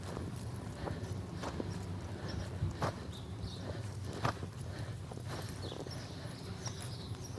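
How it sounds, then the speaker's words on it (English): A mare trots through a barrel racing pattern, her hoofbeats landing in a quiet, steady clip-clop rhythm at a moderate distance, with a few sharper thuds. "I'm going to trot her through one time, and then I'll lope her through."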